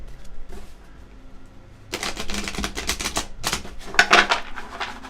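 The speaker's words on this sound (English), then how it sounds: "because I've been shuffling for 5 minutes" Tarot cards being shuffled by hand, a quick run of crisp riffling flutters and slaps close by, starting softly and growing denser and louder toward the end.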